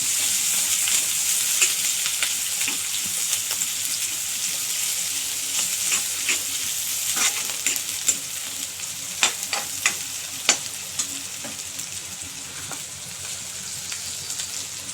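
Garlic-ginger paste fries with onion in a pan for paneer butter masala: a loud, steady sizzle with occasional sharp taps and scrapes of stirring.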